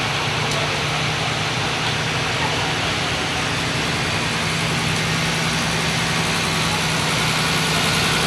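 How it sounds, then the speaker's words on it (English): A Ford tractor engine runs steadily in a county fair parade, a continuous loud mechanical drone with a low hum and broadband rumble throughout and no talk. "This is St. Gen FFA on a Ford tractor."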